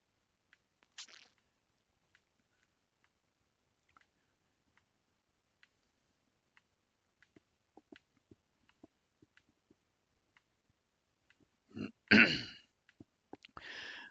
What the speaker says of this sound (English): I'm going to be clearing my throat a lot